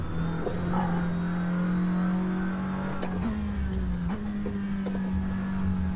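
SEAT Leon TCR touring car engine in the Assetto Corsa racing game, a loud, steady droning note whose pitch dips and steps back up as the revs shift between gears, with no talk over it.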